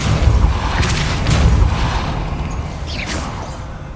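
Depulso spell cast in the video game Hogwarts Legacy on PS5: loud booming thuds and rushing whooshes with a mechanical clatter, then a short bright whoosh near the end.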